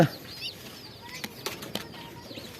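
Pigeons flap their wings in several quick bursts near at hand, with faint cooing and chirps in the background and no talk.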